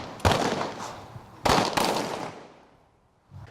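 Close, sharp gunshots from defensive shooting training for magistrates, three loud reports spaced unevenly and followed by a fainter fourth, each ringing out into a decaying echo.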